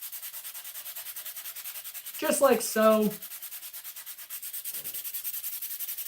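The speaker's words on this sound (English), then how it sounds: "let's keep sanding" Steel blade of a Japanese Santoku kitchen knife being hand-sanded with steady, rhythmic back-and-forth strokes that continue throughout, close and clear, with a brief spoken phrase partway through.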